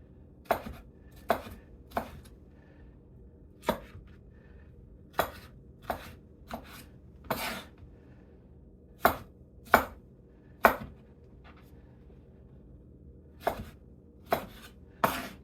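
A knife chops vegetables for gazpacho on a cutting board, giving a string of crisp, close thumps at an uneven pace, sometimes in quick pairs, with quiet gaps between them.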